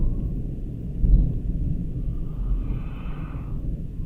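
Distant thunder from a passing storm rolls as a low, continuous rumble that swells briefly, then fades back to a soft grumble, with no voices.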